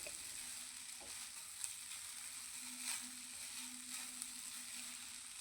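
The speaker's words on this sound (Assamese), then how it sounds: "এয়া চাউলখিনি ভাজি আছোঁ।" Bora rice stirred with jaggery in a hot pan gives a soft, steady sizzle with occasional scraping clicks, faint and continuous with a low hum beneath.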